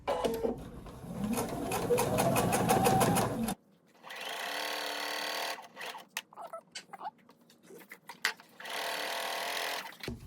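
A sewing machine stitches binding onto a quilted glass case, a run of rapid, steady stitching that stops abruptly, then two more bursts of machine whirring separated by pauses with small clicks and handling sounds.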